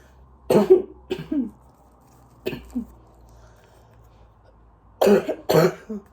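A person coughs several times in close, sharp bursts, with short pauses between fits and a double cough at the end.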